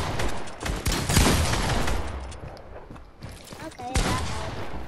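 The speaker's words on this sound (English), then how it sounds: "this kid is still shooting me" Bursts of rapid gunfire in a video game shooting match, dense and loud, then easing before another short volley, with a player's voice over the shots.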